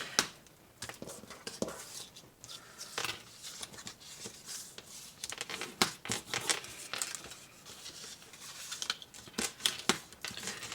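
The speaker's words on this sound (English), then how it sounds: "I'm just going to fold, and let's burnish right now because it's far easier" Paper card is folded and burnished by hand, producing close, quiet crinkling, sliding and scraping strokes in irregular short bursts with no voices.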